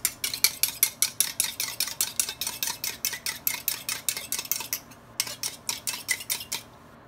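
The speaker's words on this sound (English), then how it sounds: "Mix beaten egg and water." Rapid, steady clinking strokes of a utensil against a bowl while beaten egg and water are stirred into strudel dough for apple strudel, close and regular with a brief pause near the end.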